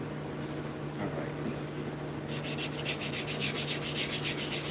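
A hand plane blade is rubbed on a sharpening stone to remove the burr, a steady scraping drone with faster, rhythmic strokes in the second half.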